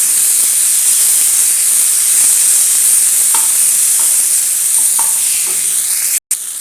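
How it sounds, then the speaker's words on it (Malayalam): Chopped tomatoes sizzle and hiss loudly and steadily in a hot pan while cooking for aval upma, with a few faint stirring scrapes. The sizzle cuts out briefly just before the end. "തക്കാളി ഉടയുന്നവരെ ഒന്ന് വേവിച്ചെടുക്കാം."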